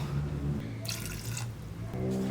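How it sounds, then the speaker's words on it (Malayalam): Water poured into a pot of chana masala, a brief splashing pour of about a second standing out over a steady low hum. "ഇതിലേക്ക് 1/4 കപ്പ് വെള്ളം ചേർക്കുന്നുണ്ട് കേട്ടോ"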